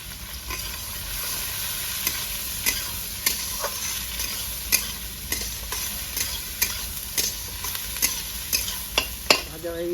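Chopped onions frying in mustard oil in a pan, a loud continuous sizzle broken by regular scraping strokes of a spatula stirring them, close up and without voices.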